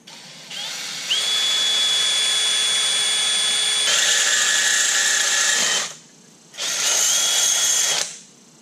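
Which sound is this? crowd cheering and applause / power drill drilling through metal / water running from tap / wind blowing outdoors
power drill drilling through metal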